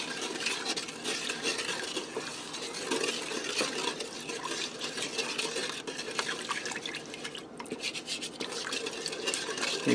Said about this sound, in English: You just want to whisk it around to get the lumps out of your flour